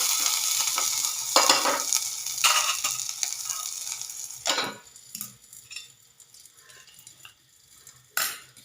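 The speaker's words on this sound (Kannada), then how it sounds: "ಈಗ ನೋಡಿರಿ, ಬೆಳ್ಳುಳ್ಳಿ ಮತ್ತು ಮೆಣಸಿನ್ಕಾಯಿ ಎರಡೂ ಫ್ರೈ ಮಾಡ್ಲಿಕ್ಕತ್ತೀನಿ." Garlic and green chillies fry in a pan with a hissing sizzle, broken by several sharp scrapes and clinks of a metal spoon stirring. The frying quiets between strokes, leaving a faint crackle.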